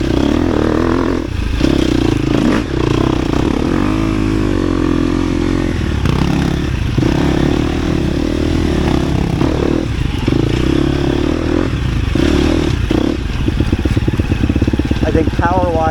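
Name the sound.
motorcycle engine while riding a 250 or 350 bike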